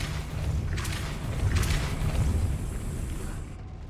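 Casting the Depulso force spell in Hogwarts Legacy produces a deep, rumbling boom with airy whooshing bursts layered over a heavy low roar that fades out at the end.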